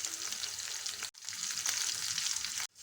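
Onion hitting hot oil already seasoned with cumin, mustard seeds and chilli for an okra pappu charu, giving a steady loud sizzle and crackle with two brief cut-offs.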